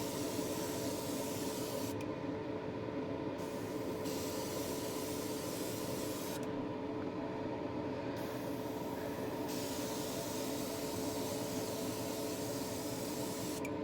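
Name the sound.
airbrush being cleaned out, spraying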